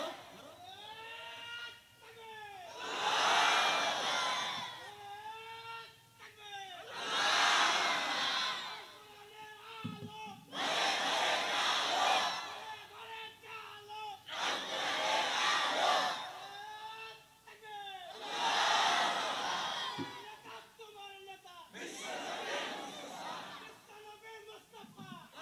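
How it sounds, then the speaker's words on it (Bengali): A large crowd at a Ramadan sermon roars the takbir chant in call-and-response, with a leader's voice calling out between repeated massed shouts about six times, each swell loud and full. "তাকবীরটা সুন্দর না?"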